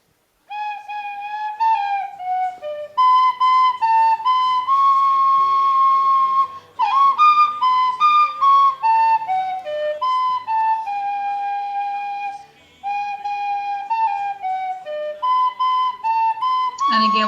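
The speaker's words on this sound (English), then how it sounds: "And again, what she's playing is called the tin whistle." A tin whistle plays a lively solo melody, bright and close, with quick ornamented notes and short breath pauses between phrases, and no talk over it.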